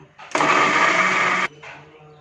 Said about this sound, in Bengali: 1 মিনিটের জন্য ব্লেন্ড করে নিব।